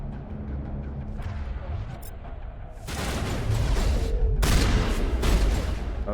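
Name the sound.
gunfire in Mass Effect video game, enemy shotgun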